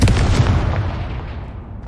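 The Confringo fire spell in Hogwarts Legacy bursts with a single loud, close, booming blast that rumbles and slowly fades over about two seconds.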